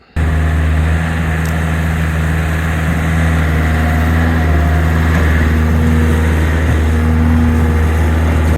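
A skid steer tractor engine labours in soft mud, its wheels digging in while it fills a ditch. The diesel drone is steady and loud, with a deep low hum and no talk over it.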